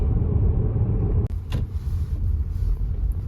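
Car cabin on a long highway road trip across Ontario, Canada: a steady low rumble of engine and tyres with a brief click and shift in tone partway through, no voices.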